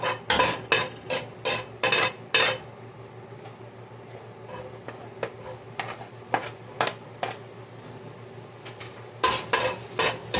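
Onion and garlic being sautéed in a pot that was used earlier to boil mung beans, with repeated sharp metal scraping and stirring clatters over a low, steady cooking sizzle, pausing midway and then resuming.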